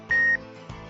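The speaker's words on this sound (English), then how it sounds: "Dive computers also have alarms, audio and visual, that warn you if you exceed the maximum ascent rate." A dive computer's ascent rate alarm sounds as a single loud, piercing electronic beep lasting about a quarter second, set against a faint mechanical background with no talking.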